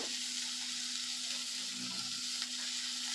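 Potato fries in a pan over a low flame, giving a steady, even sizzle with a faint continuous hum underneath and no talking.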